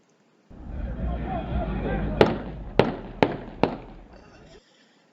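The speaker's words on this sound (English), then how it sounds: "after he fires some rounds in the air" Several gunshots fired into the air during a deputy-involved shooting, four sharp cracks spaced roughly half a second apart, heard under a steady wash of background noise and muffled voices.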